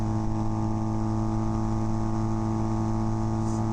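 A Kawasaki KZ400 tracker motorcycle engine drones steadily and loudly at speed, a continuous close-up hum with no clear break for the shift into fifth gear.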